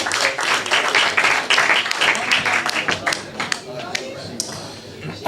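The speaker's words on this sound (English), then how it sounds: "Clap it up for her." Crowd applause at an open mic night in a gallery brew house, loud scattered clapping with whoops and chatter that thins out and fades toward the end.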